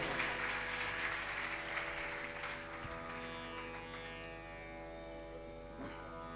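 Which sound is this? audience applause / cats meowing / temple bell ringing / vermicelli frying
audience applause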